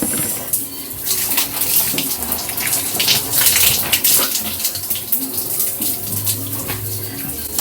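Water runs and splashes continuously and loudly up close while waist-length hair is rinsed during a second wash, with uneven spattering throughout.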